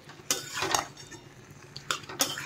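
A spoon stirs cornflour chili egg gravy in a pan, with scraping, clinking strokes of metal against the pan at irregular intervals over a soft background, close and moderately loud.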